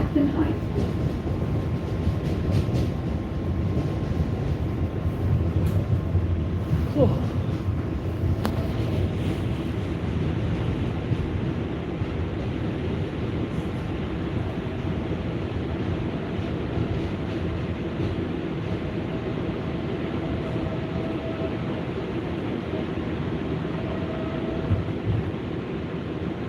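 Steady rumble and rattle inside a New York subway 7 local train running toward Flushing–Main Street from 82nd Street–Jackson Heights, continuous and fairly loud, with faint speech at times.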